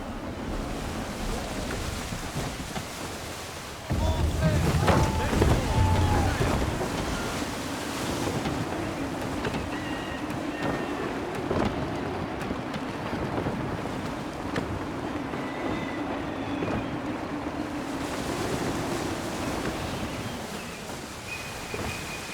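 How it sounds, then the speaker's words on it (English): A sailing ship at sea in gusty, shifting wind in the Assassin's Creed III video game, with a steady roar of wind and rushing surf that swells and eases without a break. "Wind looks to be shifting. Stay alert, Connor. Gusty winds can be difficult to manage."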